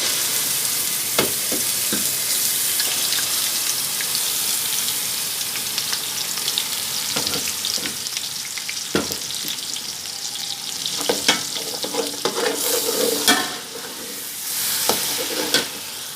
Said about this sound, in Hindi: थोड़ा सा ज़ीरे को फ्राई करने के बाद इसके अंदर चला जाएगा प्याज